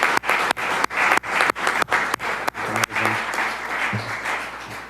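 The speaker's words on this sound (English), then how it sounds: "We can clap for I think we can clap for everyone, yeah." Applause at a city council meeting, steady clapping from a room of people that swells and then trails off gradually, with a voice murmuring underneath.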